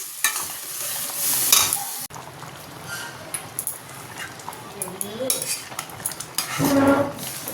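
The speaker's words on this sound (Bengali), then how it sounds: "এবার মশলাটাকে বেশ ভালো করে কষিয়ে নিই।" Ground spice paste with onion, ginger, garlic, green chilli and tomato is stir-fried for a prawn curry: a close, low sizzle under repeated clinks and scrapes of a utensil against the pan.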